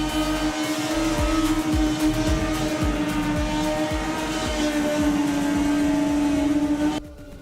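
Drag racing cars at a summer nationals event roar down the strip, a loud sustained engine drone with rapid rhythmic pulses that cuts off abruptly near the end.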